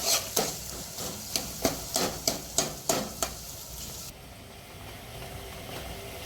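Boiled potatoes being mixed into a pan of poha base, a spoon knocking against the pan about ten times in a steady rhythm before the scraping stops and only faint background hiss remains.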